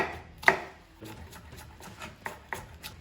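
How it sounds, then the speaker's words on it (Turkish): A knife chops onions quickly on a board: one sharp strike, then a run of lighter, evenly spaced cuts, close by with no talking. "5 baş kuru soğanı ince ince doğruyorum"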